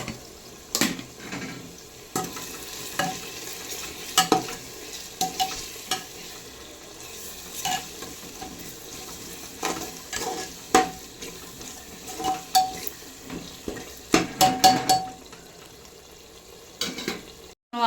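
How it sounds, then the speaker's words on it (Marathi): Oil bubbles and sizzles in a pan while spices and ingredients are fried for biryani, with a steady crackling fry broken by repeated scraping stirs and clinks of a spoon, heard up close. "मस्त छान असे तेलाच्या गुडगुड्या निघा लागल्या आणि इतकं छान मस्त असं सेंट वास येऊ लागलाय"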